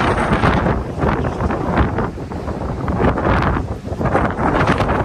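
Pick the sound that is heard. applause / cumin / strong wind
strong wind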